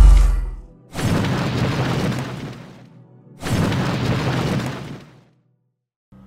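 Two earthquake spells strike a Town Hall 11 war base in Clash of Clans, each a loud, long rumbling blast lasting a couple of seconds, separated by a short lull and followed by silence.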